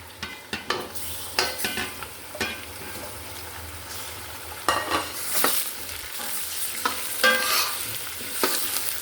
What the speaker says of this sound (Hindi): अच्छे से चिकन को भी फ्राई करना है हमने।